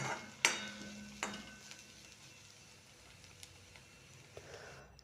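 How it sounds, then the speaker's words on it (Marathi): Finely chopped onion frying in a pan for tomato chutney, a soft steady sizzle with two sharp utensil clinks near the start and a few lighter taps later, no voices. "मग नंतर बारीक चिरलेला कांदा तळून घ्यायचा।"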